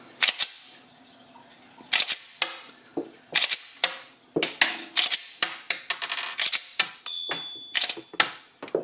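Close, crisp metallic clacks from a Polymer80 PF940C pistol fitted with a Magpul GL Enhanced Magwell as the slide is racked and locks back, repeated in quick irregular bursts, with no voices.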